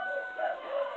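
A chicken gives a brief, clear vocal call, near and moderately loud, lasting about a second with a couple of rising and falling tonal notes.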